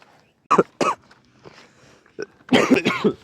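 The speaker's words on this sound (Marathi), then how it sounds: "खोकला झालाय" Several sharp coughs, two close together and then a harsher burst of coughing, loud and close with quiet gaps between.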